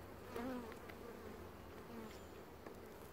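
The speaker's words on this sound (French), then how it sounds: "Donc ça c'est une très belle ruche, c'est une reine de John." Honeybees hum steadily around a beehive in summer, a continuous close buzz with individual insects passing near, fairly quiet and with no voices over it.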